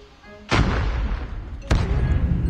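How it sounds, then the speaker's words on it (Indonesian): Two heavy shotgun blasts boom in a video game match, each a sharp report followed by a rumbling tail, spaced about a second apart over low background noise. "Ya, shotgun mah, bro."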